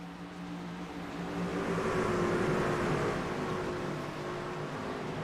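Race cars and a pace car in a racing sim video game at Charlotte: a continuous droning engine roar that swells slightly in the middle and then holds steady at a moderate distance.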